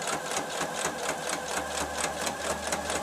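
A sewing machine stitching around the folded crease of a bias tape seam, its needle running in a fast, even, continuous rattle, close and fairly quiet.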